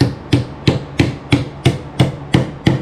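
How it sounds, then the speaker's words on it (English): A hammer striking a metal part while refitting the gas tank on a Ford Pinto Cruising Wagon: eight evenly spaced, light, sharp taps up close, with no one talking. "take your hammer, just start tapping on that, get it go down"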